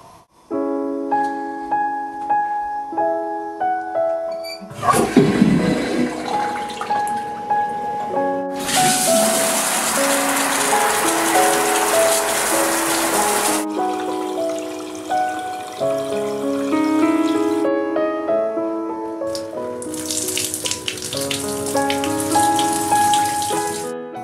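Water running from a tap, with a toilet flush and faucet in a domestic setting; a steady rushing stream in several close, loud bursts over a background of music.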